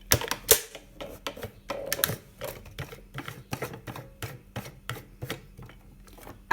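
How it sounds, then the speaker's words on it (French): A Badge It badge-making press crank turned until it clicks: a rapid series of sharp close mechanical clicks and ratchet taps, evenly repeated over several seconds. "on tourne la manivelle jusqu'au clip. Vous allez l'entendre."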